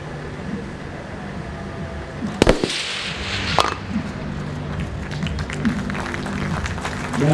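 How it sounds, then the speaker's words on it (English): Two sharp, heavy reports from an AX-308 7.62mm sniper rifle ring out about a second apart during a military firepower exercise, standing out over a steady outdoor rumble and faint background noise. "A high-value target personnel will be engaged by the AX-308"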